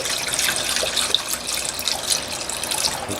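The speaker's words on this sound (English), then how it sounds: "I fill this thing up with LA's Totally Awesome Cleaner until it's just above the min line" LA's Totally Awesome Cleaner is poured from a freshly opened bottle into an ultrasonic cleaner tank, a steady, close, splashing liquid stream with bright gurgling and no talking.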